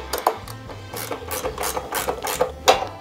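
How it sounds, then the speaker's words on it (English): A 14 mm ratcheting wrench clicking steadily as it tightens a standard bike seat clamp bolt on a Miami Sun Baja trike, with quick repeated pawl clicks in short strokes, close up and with no talking. "Standard seat clamp."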